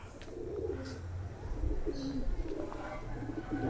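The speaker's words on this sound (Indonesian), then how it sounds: "baru beberapa kali ngelop udah ngokot burungnya loh udah ngap-ngapan" Racing pigeons cooing in a loft, soft low throaty coos repeating through a steady murmur of background noise, with a faint chirp now and then.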